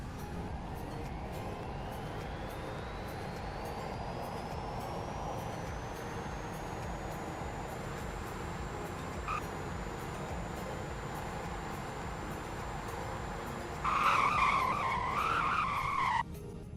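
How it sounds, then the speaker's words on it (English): In the Roblox Greenville game, a car's engine whine climbs steadily in pitch as it accelerates to 100, then gives way to a brief, loud tire screech under hard braking near the end. "Now for a 0 to 100 in braking test."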